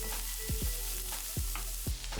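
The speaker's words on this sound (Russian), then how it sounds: "Обжариваем лук с грибами до золотистости лука." Chopped onions and mushrooms fry in vegetable oil in a skillet with a steady, close sizzle, broken by a few soft scrapes as they are stirred.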